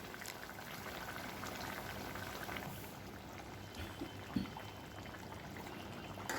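A pot of Bata fish curry simmers with soft, continuous bubbling and a faint hiss, quiet and steady, with no voices.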